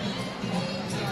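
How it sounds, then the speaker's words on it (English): Big crowd at a grassroots political campaign event, a dense close wash of many overlapping voices and chatter with no single voice standing out. "Big crowd."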